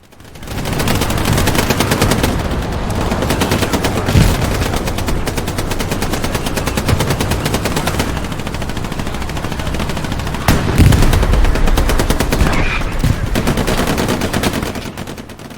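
Dense, continuous gunfire from a World War II shooter video game: rapid machine-gun bursts and scattered heavier shots blend into a loud, unbroken battle din with no speech.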